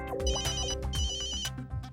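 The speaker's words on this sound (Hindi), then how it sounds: "मेहता अंकल को फोन लगा।" Rhythmic electronic ringing from a phone making an outgoing call, a repeating musical ringtone pattern, close and clear, with no talk over it.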